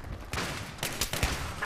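Gunfire in the video game Battlefield 3, several sharp, loud shots cracking in quick succession over a short burst, close and punchy with brief gaps between them.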